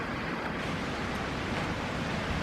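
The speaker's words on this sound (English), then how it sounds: "the wind has been tremendous today" Strong wind blows outdoors on a wild day as a steady, dense roar that fills the whole moment without letting up.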